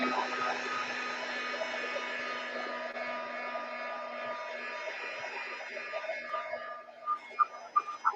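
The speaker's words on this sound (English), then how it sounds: "Just going to give it a once over with the heat gun." A heat gun blows steadily over a finished craft piece, a constant airy whoosh with a faint whine that holds for most of the stretch before easing off into a few light knocks near the end.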